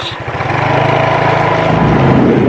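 A motorcycle engine runs steadily close by with a low, throbbing idle-like drone that holds constant for the whole stretch, carrying two riders while traveling near Mae Sot on the Thailand–Myanmar border.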